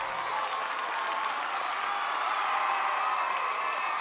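Steady, loud applause and cheering from a crowd, continuous and even throughout with no break.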